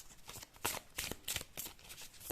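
An oracle card deck with mystic cat designs is shuffled by hand, giving several quiet, crisp bursts of papery riffling in quick succession, close and alone.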